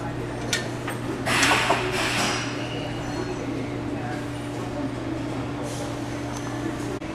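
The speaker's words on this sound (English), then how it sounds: "Once the key lock comes loose, you move the cover down and off." A key lock cover is slid down and off a door lock, making a few soft scraping and rubbing clicks over a steady low background hum, close and fairly quiet.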